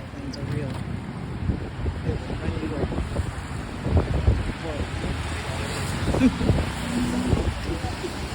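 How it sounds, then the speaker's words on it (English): Gusting wind buffets the microphone on a cold, rainy Amsterdam city street beside bike lanes, a steady roar with rougher bursts, mixed with faint street sounds. "they said it was going to rain and be windy, and it is rainy and windy"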